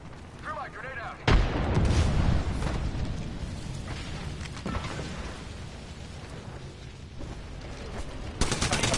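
A video game grenade goes off in a sudden loud blast, followed by a rumbling, crackling tail and more gunfire-like bursts, while players talk over the action.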